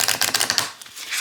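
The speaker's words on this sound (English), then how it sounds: "now let's go ahead and give these cards a shuffle" A deck of oracle-size cards with a light glossy finish is riffle shuffled close up, giving a rapid run of crisp flapping clicks that trails off, then a soft rustle as the cards settle.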